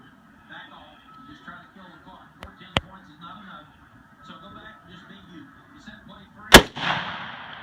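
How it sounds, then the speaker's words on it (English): A rifle shot detonating a Tannerite target 200 yards out gives one sharp loud crack late in the clip and a lingering rumble, after two smaller snaps, while people talk quietly outdoors. "Wait, are you shooting the rifle?"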